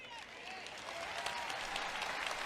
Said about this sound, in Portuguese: você está batendo palma quando eu digo que ele está voltando